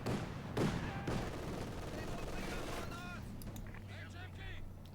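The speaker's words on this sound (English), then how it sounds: "Machine gun to flank of the T70." Company of Heroes 2 machine gun fire crackles in short bursts amid a busy battle soundscape, with sharp reports early on and then continuing gunfire beneath a commentator talking.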